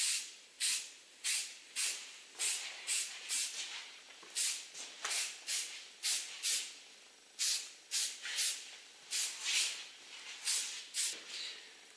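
Lancer hairspray misted over a styled asymmetric pixie cut in quick, rhythmic bursts, about two dozen short hissing sprays in steady succession, fairly faint and close.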